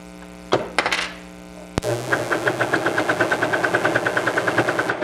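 Sewing machine stitching a knit t-shirt neckband: after a few handling clicks and a thump, the needle runs in a fast, even, close-up mechanical rattle over a low motor hum.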